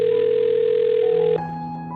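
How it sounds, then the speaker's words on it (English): A telephone dialing a number, heard as a steady electronic tone for over a second that then shifts to a different set of tones, loud and close with no voices. "I'm going to dial his phone number right now"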